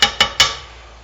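A spoon knocks against a pot of simmering pork adobo with three quick, bright metallic clinks, evenly spaced and close, each ringing briefly before fading into low kitchen quiet.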